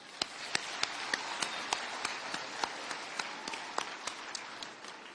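Scattered hand claps from an audience at the installation of Kenya's First Lady as patron of the Kenya Girl Guides, sharp taps roughly every third of a second over a steady murmur of crowd noise.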